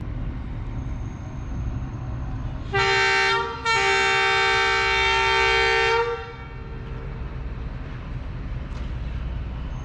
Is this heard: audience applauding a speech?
no